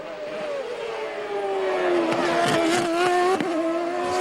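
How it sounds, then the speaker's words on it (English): A Lola Toyota CART race car on the backside of the Montreal circuit during 2002 qualifying, its high-pitched engine whining steadily and rising in pitch as it accelerates, loud and continuous with a brief gear-change dip. "wrestling that Lola Toyota around on the backside"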